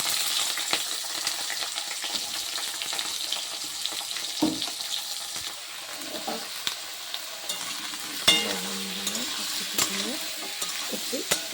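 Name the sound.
stirring and frying panch phoron spices in a pan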